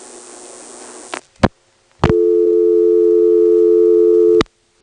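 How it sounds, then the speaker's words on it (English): A steady telephone dial tone from a 1977 North Carolina step-by-step exchange hums on for a couple of seconds after a short burst of noise and clicks, then cuts off abruptly. "Plays twice and dumps you to a dial tone."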